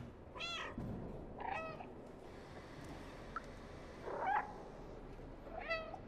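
A cat in the video game Stray meows four times at uneven intervals, clear, distinct calls over a quiet background.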